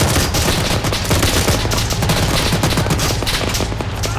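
Sustained machine gun fire in the military video game Arma 3, set in an alternate-history Second Falklands War, a dense, loud and continuous rattle of rapid shots and booming reports filling the whole stretch with no talking.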